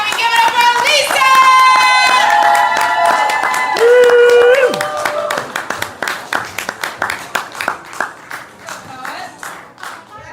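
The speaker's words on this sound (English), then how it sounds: "Keep clapping, keep clapping, keep clapping. Give it up for Lisa." A poetry slam audience claps and applauds for a poet. An amplified voice first speaks over the start, then quick, rhythmic close-up claps carry on alone.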